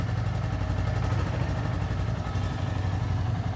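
A Royal Enfield Bullet 350 motorcycle in ideal condition idles with a steady low thumping exhaust note, continuous and close, with no talk over it.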